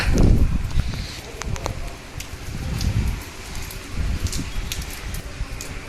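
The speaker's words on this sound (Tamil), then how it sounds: "ஜனவரியில் 2024 முத முறையாக மழை பெய்யுது சென்னையில்." The first rain of 2024 falling in Chennai, a steady patter of drops on surfaces outdoors with some rustling and handling noise close by, continuing throughout at moderate level.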